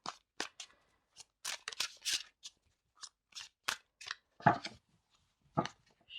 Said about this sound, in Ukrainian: трошки повільніше тасувати, бо більша колода